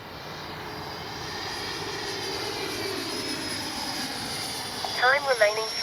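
A Freewing 90mm T-45 model jet on its second flight makes a steady, whooshing turbine roar as it passes overhead. Near the end the sound rises and pulses, and someone talks over it.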